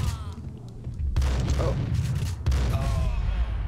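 Heavy gunshots from the video game Max Payne land in two loud, booming volleys with rumbling low-end decay, with a player's voice talking over the shooting.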